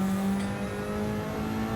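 A Group 4 race car at Spa in Gran Turismo 7 brakes hard with engine braking through downshifts, a steady droning engine tone with blipping revs, constant and close with no voices.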